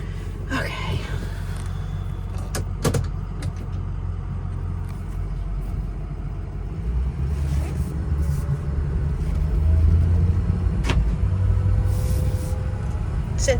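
A 2007 Ford F250 Lariat pickup with a 6.0 Powerstroke diesel engine driving, a steady low engine and road rumble heard from inside the cab, with a few clicks and knocks and a person talking over it.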